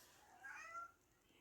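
A cat gives one short meow, faint and a little distant, rising briefly above a quiet indoor background.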